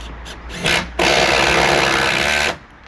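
An electric drill bites into brickwork, a loud, harsh grinding roar lasting about a second and a half after a brief initial burst, then cutting off abruptly.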